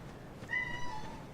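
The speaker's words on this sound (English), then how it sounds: "My cat is going crazy." A pet cat meows in a short, clear, drawn-out cry of moderate loudness indoors, with a second brief meow following close behind.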